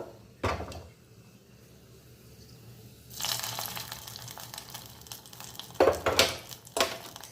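Raisins frying in a pan while making wheat payasa: soft bursts of sizzle and stirring with a few louder clatters near the end, close by, with no talk.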